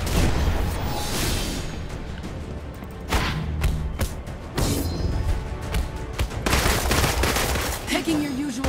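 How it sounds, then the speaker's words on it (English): Heavy gunfire rattles through a Marvel's Avengers battle, repeated bursts and thuds over a dense, loud backdrop of action sounds, with a voice briefly speaking. "I'll put some bullets into him."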